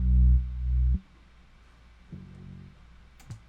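A sub bass synth pitched an octave higher plays a deep sustained tone that cuts off sharply, followed by a couple of quieter low notes and faint clicks.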